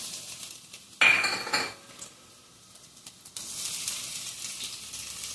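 Ginger and garlic hit hot oil for a vegetable stir-fry: a sharp burst of sizzle and pan clatter, a quieter lull, then a steady, bright frying hiss that resumes and holds.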